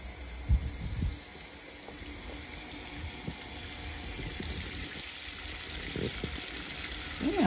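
Running tap water streams steadily while bleach is rinsed out of a lace wig, a continuous wet hiss from start to finish with a few soft splashes and handling sounds near the beginning and end.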